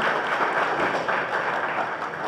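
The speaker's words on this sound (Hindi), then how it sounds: "आम श्री संतोष बाबू को स्वागत करूँ, अभिनंदन करूँ करताली सहित" Audience applause at a Congress party event in Jajpur town welcoming a local leader, a steady dense wash of clapping that holds at an even level for its full length with no voices over it.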